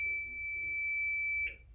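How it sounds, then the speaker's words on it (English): A single sustained high-pitched electronic beep from a large countdown timer's buzzer sounds steadily for about a second and a half as it reaches zero, then cuts off, close and clear. "it'll flash, do the beep."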